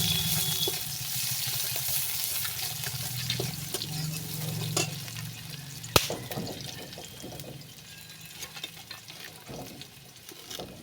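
Black cumin, bay leaf and onion sizzle in hot oil in a pan, a close and busy crackle with stirring scrapes, a sharp clink near the middle and a hiss that fades toward the end, with no talk.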